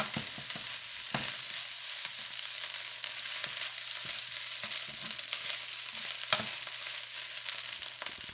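Eggs stir-frying in a pan for ginger shrimp fried rice, a steady broadband sizzle with occasional scraping stirs and clicks of a utensil, close and continuous with no voices.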